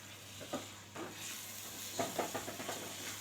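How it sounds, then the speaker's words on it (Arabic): Rice sautéing in butter and oil gives a quiet, steady sizzle with a few soft stirring scrapes at intervals. The scrapes cluster more closely toward the end, and no one speaks. "ننزل كده بالرز بتاعنا نشوحه بقى كده في الزبده والزيت بتاعنا"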